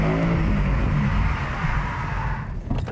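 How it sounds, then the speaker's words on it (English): A Ford Mustang does a second gear burnout leaving a T intersection, its engine roaring loud and steady as the rear tires spin. It sounds near and sustained, then eases slightly in the last half second. "Second gear burnout, leaving a T intersection, let's do it."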